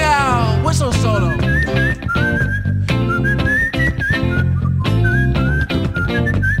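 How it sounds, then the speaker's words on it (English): A whistled solo melody in a pop song, loud and bright, running over bass, drums and backing instruments with quick wavering trills. "Whistle solo."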